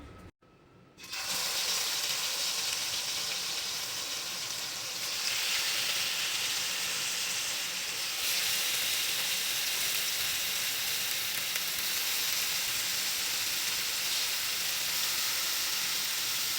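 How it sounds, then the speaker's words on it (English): Pork browning in a hot pan for gravy, a steady loud sizzle and hiss that bursts in after a short quiet start and keeps going without talk. "Now I am just gonna brown the heck out of this meat"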